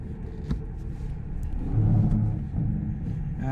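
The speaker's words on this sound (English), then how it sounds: "we're gonna fire the car up" A 2016-2019 Hyundai Sonata engine idles steadily close by, a low rumble that swells briefly as if given a little gas, then settles back, with no talk over it.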